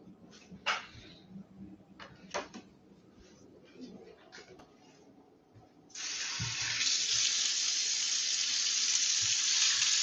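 Tap water pours steadily into a container for drinking, a loud continuous hiss that starts partway through and runs to the end, following a few quieter bird coos and small handling sounds.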